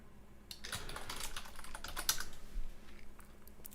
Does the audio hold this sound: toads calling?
no